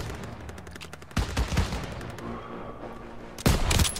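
Bursts of gunfire ring out in the World War II shooter Call of Duty WW2 on PS4, with rapid rattling shots over a busy battle din and two loud, sharp volleys near the start and end.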